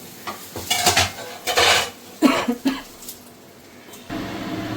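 A metal kadai is set down on a home kitchen stove while making chicken curry, giving several close clanks and scrapes of metal cookware in short bursts, with no talking.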